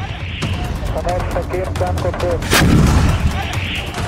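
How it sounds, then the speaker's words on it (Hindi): A loud heavy boom of cannon fire partway through, with rumbling decay, amid other gunfire and a voice speaking over it. "इजराइल का तोप से हमला।"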